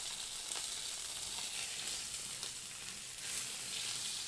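Steak searing in a very hot pan gives a steady, dense sizzle that hisses close to the mic, fairly quiet overall and unbroken for a few seconds, with no voices.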